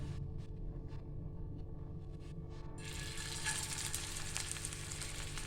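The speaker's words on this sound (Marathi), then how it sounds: "आता आपण ह्यांना फ्राय करून घेऊया" Pea cutlets fry in oil in a pan over a low flame, a close, steady sizzle that swells into a dense, bright crackle partway through, with no talking.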